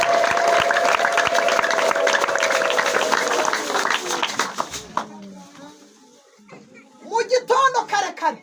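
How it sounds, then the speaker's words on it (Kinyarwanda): A church congregation bursts into loud clapping and cheering at a testimony, dense applause for about five seconds that then dies away, followed by a voice speaking. "uyikomera amashyi yo"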